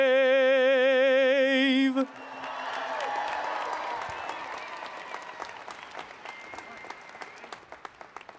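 Audience at a college of liberal arts and sciences convocation ceremony breaks into sustained applause right after a sung anthem ends, a broad steady roar of clapping that slowly thins out.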